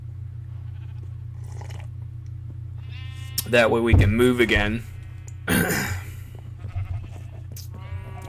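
Sheep bleat in vanilla Minecraft: a couple of wavering, nasal bleats rise out of a low steady hum, with someone speaking over part of the sounds.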